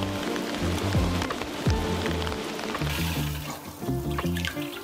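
Rain falls steadily outdoors by a garden greenhouse, a continuous close patter of drops on surfaces with low knocks and thumps mixed in, and no one speaking.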